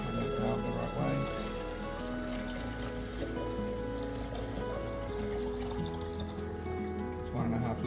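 Water poured into a brine shrimp hatchery fitted with a valve and heater, 1.5 litres going in as a continuous close trickle and splash, with low background hum throughout.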